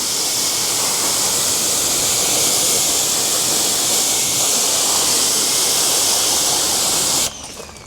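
Steady, loud rush of water spraying over a Mercedes S63 AMG parked in the sun, a broad continuous hiss held for about seven seconds before cutting off abruptly near the end.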